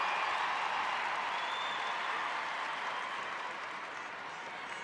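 A large crowd applauds steadily at a women's rugby match between Ireland and Scotland, a dense wash of clapping that holds for several seconds and fades slightly toward the end.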